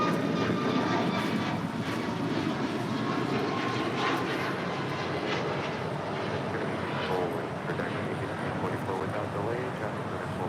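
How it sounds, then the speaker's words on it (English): Out at LAX, a United Airlines Boeing 737 MAX 9 takes off for Houston, its engine roar fairly distant and steady throughout, with faint talk mixed underneath. "2040 taking off to Houston Intercontinental on a MAX 9."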